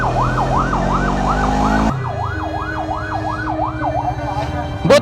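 A 103 ambulance siren wails on the road in a loud, steady rising-and-falling cycle over a vehicle's engine rumble, then continues more faintly from inside a car while people talk quietly.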